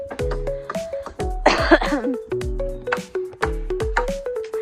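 A person coughs repeatedly, a cluster of harsh coughs with throat clearing in the middle, close and fairly loud, separated by short pauses.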